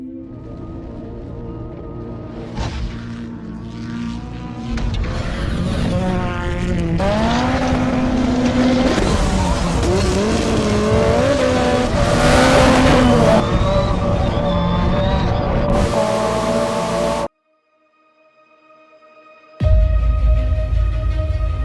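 A 1982 Audi Quattro four-wheel-drive rally car drives hard, its engine rising and falling through gears in a loud, continuous roar that cuts off abruptly, then returns after a short silence.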